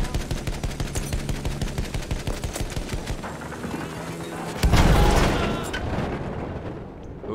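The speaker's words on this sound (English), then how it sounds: "Anti-aircraft guns, right there!" Anti-aircraft guns fire in Battlefield 1 in a rapid, evenly spaced burst of heavy thumping shots lasting about three seconds, followed after a short gap by a loud booming blast that rumbles away.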